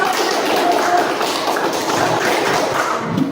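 Classroom applause for a student group, a dense steady patter of many hands clapping at close range, with some voices mixed in.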